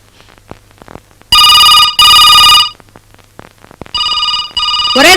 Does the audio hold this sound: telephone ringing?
yes